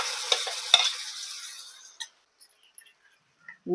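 Ground masala hits softened onions in a pan for egg masala, giving a short burst of sizzling and stirring that quickly fades to near silence, broken by a few small clinks.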